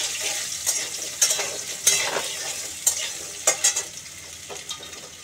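Potatoes and ridge gourd fry in a pan as a spatula stirs them, giving a soft background sizzle broken by repeated sharp scraping strokes at an irregular rhythm.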